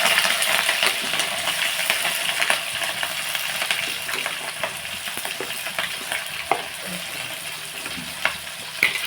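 Onions sizzle steadily in hot oil with cloves, cardamom and cinnamon for a chicken curry, a continuous close crackle dotted with sharp pops and occasional spoon clinks against the pan.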